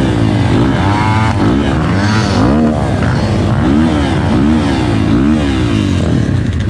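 Small off-road motorcycles, Orion RXB 190X and RXB-250 and GPX FSE 250 E dirt bikes, set off together on a trail ride at a bike festival, their engines loud and close, revving and rising in pitch.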